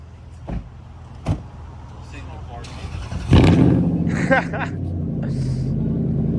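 A Lexus LS400 engine rumbles steadily, picking up after a few sharp clunks, with brief bursts of higher mechanical whine over the running motor.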